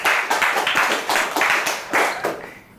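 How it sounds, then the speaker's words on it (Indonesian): A film crew claps together in a steady burst of brisk, loud applause lasting a few seconds, with rhythmic hand slaps close by before it tapers off. "mari kita sambut, tepuk tangan semuanya kru"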